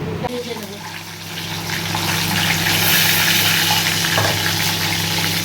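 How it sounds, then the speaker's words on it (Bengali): Peanuts and bay leaves frying in hot oil for a Rajshahi-style banana-flower ghonto, giving a steady close sizzle that grows louder and fuller, with a low hum running beneath it. "বাদাম আর তেজপাতা, আর ফেটে ফেটে গেলে জানবে আমার বাদাম হয়ে গেছে"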